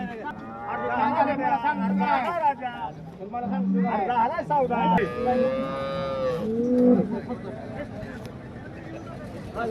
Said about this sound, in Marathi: साध्यातली गाय बघा, शिंपी गाय 8-9 लिटर पिळायसारखी.